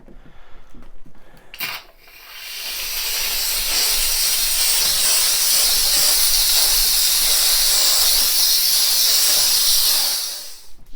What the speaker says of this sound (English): So that's just one way you can use the steam cleaner here to get grout in the bathroom.